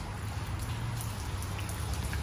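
Rain falls inside a building as a steady, dense patter of drops. The sound is constant and fairly loud, with a low rumbling wash underneath and scattered sharper drips on top, and nobody speaks.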